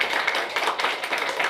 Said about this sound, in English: let us give the board of the panel a round of applause